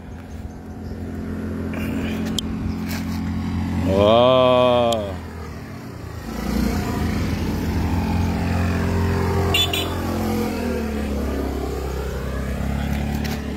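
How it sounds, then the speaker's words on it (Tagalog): A loud motorcycle exhaust rumbles close by on a road near Mt. Mayon in Daraga, holding a steady drone with a rising rev in the middle, while a voice gives a brief exclamation. "Tambutso lang yung maingay."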